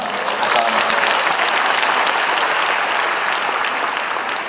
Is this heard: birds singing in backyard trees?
no